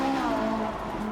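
A Ferrari V8 engine pulls along the highway behind a semi-truck, a short steady mid-pitched drone heard from inside the car, moderately loud and alone.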